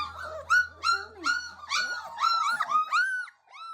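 A young dog, almost a year old, whimpers and whines in a run of high, rising and falling cries, several short whines close together, fairly near and clear with no talking.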